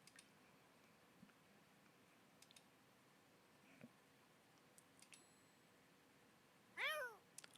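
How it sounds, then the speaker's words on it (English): A fluffy gray old-man cat in The Sims gives one short, bright meow near the end of a quiet stretch broken by faint game clicks and ticks. "I will go ahead and add in my kitty cat while we're waiting."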